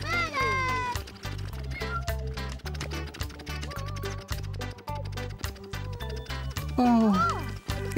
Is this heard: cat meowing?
yes